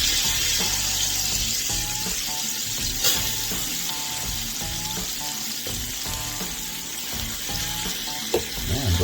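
All-purpose flour is whisked into melted butter in a hot pan for a roux, a loud continuous sizzle with rapid rhythmic whisk scraping and clicking throughout, close up and free of talk.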